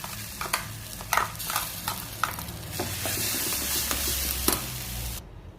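Thick ridge gourd peel chutney being stirred into hot tempering in a pan, with a steady sizzle and repeated scraping strokes, close by; no voices.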